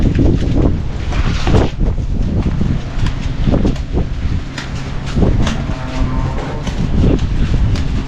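Winter wind buffeting the microphone on a farm near a barn, loud gusty low rumbling with bursts of blustering, no voices.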